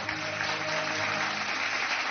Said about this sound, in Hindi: एक बार जोरदार तालियां इनके लिए भी।